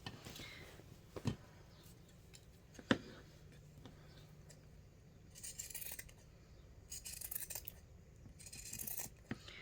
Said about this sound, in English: I just grab my pinking shears and I'll give that a little bit of a trim